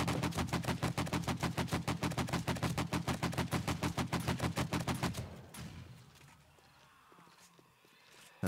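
Rapid, evenly spaced gunfire from a weapon in 7 Days to Die, loud and steady for about five seconds, then cutting off to a quieter rumbling tail.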